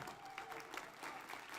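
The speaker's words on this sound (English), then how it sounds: "Please, a warm applause for Governor Josh Green, please." Audience applause for the governor at a County of Hawai'i inauguration ceremony, a steady, dense clapping from a crowd that holds evenly through the whole moment.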